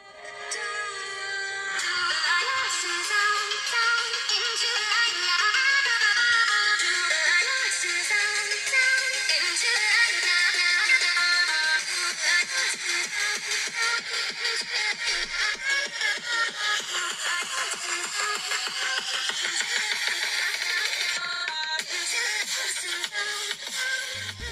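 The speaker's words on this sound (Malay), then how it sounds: "So kita akan cuba buka yang paling highest dan korang boleh dengar kualiti sound dia tu macam mana." A Samsung Galaxy A51's single mono speaker plays music at maximum volume, sounding bright and thin with almost no bass, steady and fairly loud throughout.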